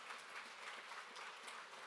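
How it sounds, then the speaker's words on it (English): Audience applause at a morning gathering, a brief faint patter of many hands clapping from a distance, with no voices over it. "let's give them a hand clap and recognize them this morning"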